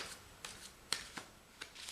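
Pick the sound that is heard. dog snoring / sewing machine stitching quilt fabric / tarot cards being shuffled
tarot cards being shuffled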